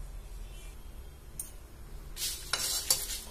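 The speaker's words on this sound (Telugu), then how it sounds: "ఇవైతే మనం మంచిగా వేయించుకుందాం." Dried red chillies fry in a pan, a soft sizzle with brief bursts of stirring and scraping near the end, close by and with no talk.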